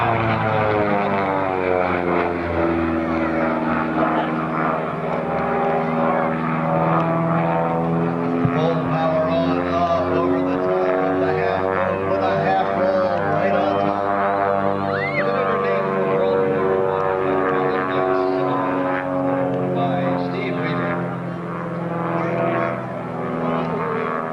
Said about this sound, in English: This aircraft with its two flat six-cylinder engines, opposed engines, 3 cylinders on each side, opposing.